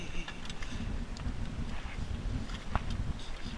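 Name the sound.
wind blowing on a boat at sea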